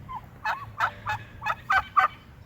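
Turkeys, including toms, gobbling nearby in a short burst of about seven quick, rattling calls over a quiet outdoor background.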